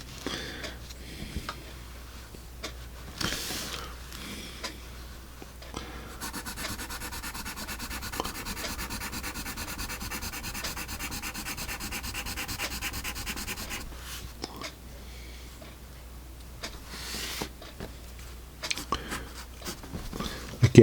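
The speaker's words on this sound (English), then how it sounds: "You can hear it, I'm sure." A Pelikan HB pencil's graphite scratches and rubs across paper in close, dry strokes, some brief and one long continuous stretch of steady scribbling.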